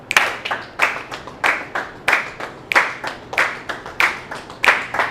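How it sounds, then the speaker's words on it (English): A group of students at a summer band and dance camp clap a rhythm together, sharp handclaps falling in a steady, repeating pattern of pairs and singles, loud and slightly ragged across the room. "we're going to clap the rhythm on your paper"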